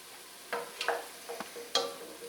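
Onions and jalapeños cook in a pot for spicy white bean chili, with a soft background sizzle broken by several distinct stirring taps and scrapes at irregular intervals.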